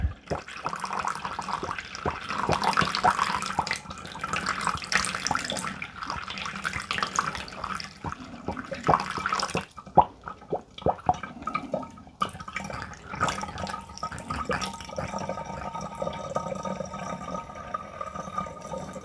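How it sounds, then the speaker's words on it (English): Water pours and gurgles into a Dupray Neat steam cleaner tank close up, briefly pausing midway before resuming with splashes and drips. "I don't necessarily need a funnel, I can just kind of pour it."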